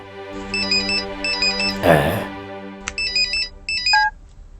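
An electronic phone ringtone plays in repeated bursts of bright melodic tones, with a short loud noise in the middle and background sounds underneath.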